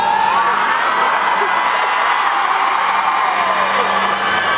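A live convention audience yells and whoops together as loud as they can, a dense sustained crowd roar filling the hall for several seconds without a break.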